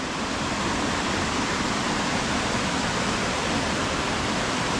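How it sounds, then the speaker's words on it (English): A river rushing beneath an abandoned brick mill, a steady, dense roar of flowing water filling the space, close and unbroken with no talk. "this is the river that would run under the mill"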